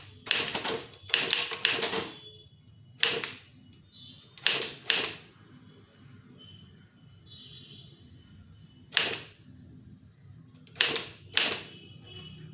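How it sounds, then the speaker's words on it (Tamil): Clacking bursts of typing on a Tamil typewriter, sharp clustered key strikes arriving in short irregular runs separated by quiet pauses, loud and close. "வச்சுட்டு இப்போ அந்த லைனை டைப் பண்ணிக்கோங்க"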